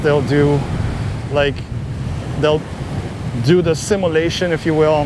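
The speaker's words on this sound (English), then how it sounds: "it's definitely windy here" Strong wind buffets the microphone at a kitesurfing beach in Aruba, a steady broadband roar with ocean surf beneath, while someone talks over it throughout.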